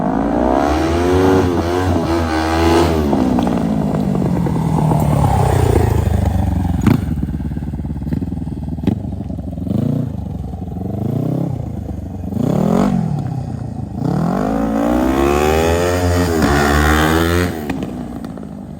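A custom-built off-road vehicle with a new 500R engine accelerates hard up through the gears, its loud close engine rising and falling in pitch with repeated revving and shifts.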